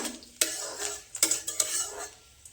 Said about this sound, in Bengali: ফোড়নটা একটু মিক্স করে নেব